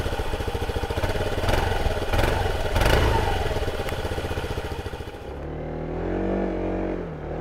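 A Honda Forza 125 scooter engine runs steadily and close, its drone shifting and rising in pitch as the rider pulls away, with no talk over it.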